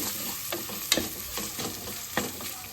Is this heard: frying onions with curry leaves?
yes